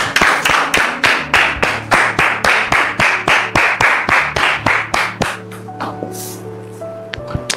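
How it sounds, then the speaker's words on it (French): An audience welcoming a guest claps in a loud, unison rhythm, about two beats a second, before the pattern breaks into scattered, fading claps and a few clicks. "Merci de le recevoir sous vos applaudissements"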